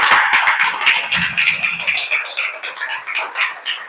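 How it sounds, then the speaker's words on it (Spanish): Congregation clapping during a church sermon, a dense, sustained patter of many hands through the room with a little faint talk and shouting at the start. "Dale un aplauso al Señor."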